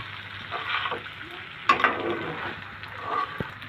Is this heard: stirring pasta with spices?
yes